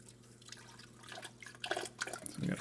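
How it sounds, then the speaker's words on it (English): Water siphons down into a saltwater aquarium's wet/dry sump tank, starting as soft trickling and building into gurgling, splashing flow with dripping bursts toward the end. "It's siphoning."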